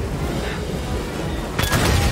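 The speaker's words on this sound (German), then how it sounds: "Das explodiert." A sudden, loud explosion bursts in Star Wars Jedi: Fallen Order, a broad roaring blast that rises over a low rumbling game soundscape and keeps sounding to the end.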